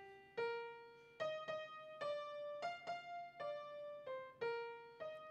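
A violin plays a Beethoven minuet melody as a series of separate bowed notes on an even, dance-like pulse, clear and close, quiet and solo with no talking.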